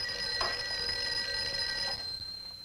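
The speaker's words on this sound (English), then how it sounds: "I think your phone is ringing." An old telephone bell rings in a vintage film scene, a bright rattling ring lasting about two seconds before it stops, heard at moderate distance over faint background noise.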